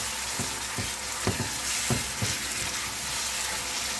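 Jjamppong ingredients with squid sizzle loudly in a hot wok, with a few sharp stirring scrapes and clacks punctuating the constant frying hiss.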